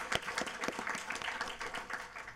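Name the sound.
applause at a city council meeting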